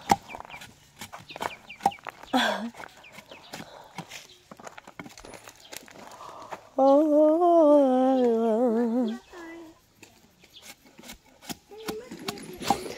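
Hens cluck and a rooster gives a long, loud crow amid scattered clucks and footsteps, with people talking in Filipino nearby in the background, in a mountain setting.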